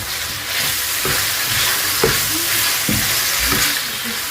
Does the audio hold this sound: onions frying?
yes